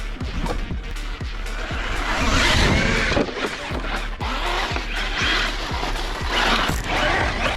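A Kyosho Toyota Tacoma TRD RC truck blasts through dirt, its small electric motor whining at speed while tires scrub and grit sprays in rough, repeated bursts.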